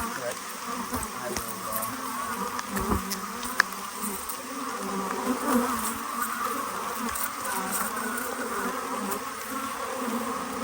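An Italian honey bee colony opened for nuc combining, a steady dense buzz of many bees droning close by, with occasional individual bees zipping past and faint handling noises.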